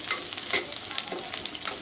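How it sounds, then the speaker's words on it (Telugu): Curry leaves fry in hot oil in a pan, a brief crackling sizzle broken by a few quick stirring scrapes, close up and with no talking. "ఇప్పుడు ఇలా వేగేటప్పుడు కొంచెం కరివేపాకు వేసుకుందాము"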